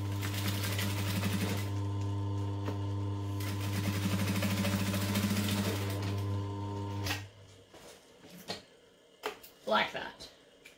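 Sewing machine stitching a backpack's lining and outer fabric together, a steady close mechanical whir for about seven seconds that then stops, followed by handling sounds of the fabric.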